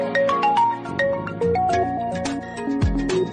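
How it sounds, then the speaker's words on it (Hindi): A phone ringtone plays a loud, bright electronic melody of quick stepping notes over a steady beat, continuous throughout. "सुजीत सिंह, कोई आपको फोन कर रहा है"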